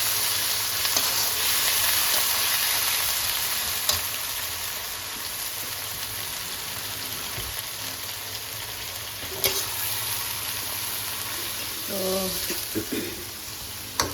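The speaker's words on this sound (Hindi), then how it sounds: "कीमे को जो है मैं जब तक इसका कलर नहीं चेंज होता, इसको मैं जब तक फ्राई करती रहूँगी।" Minced meat (keema) sizzles steadily in a pan, a continuous close frying hiss with occasional stirring knocks and a brief spoken word near the end.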